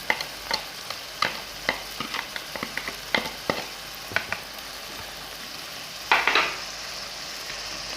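Salt and spices are stirred and fried in a pan for chicken and vegetable fried rice, with a string of sharp scraping clicks over a soft steady sizzle and a brief louder sizzling burst near the end, no talking.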